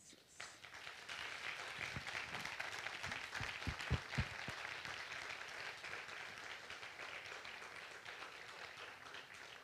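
A lecture audience breaking into sustained applause at the end of a talk on soil, a dense wash of clapping from many hands heard from within the hall, steady throughout.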